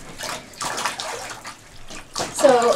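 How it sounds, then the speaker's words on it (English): Shower water sprays and splashes in bursts over a Newfoundland puppy in a bathtub, close and hissing, with short pauses between sprays and people talking softly nearby. "We'll get the shower on him."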